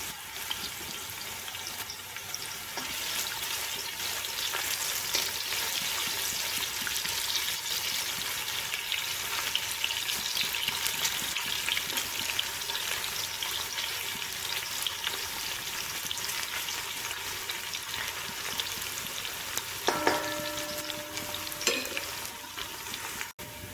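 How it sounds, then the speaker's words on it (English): One medium sliced onion sizzles steadily in half a cup of hot oil, a dense continuous frying hiss with occasional stirring scrapes and a brief clink near the end. "We're gonna add the sliced onion, 1 medium size. Let it light brown."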